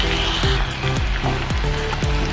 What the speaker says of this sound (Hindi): तो जी टमाटर अच्छी तरह फ्राई हो चुके हैं, गल गए हैं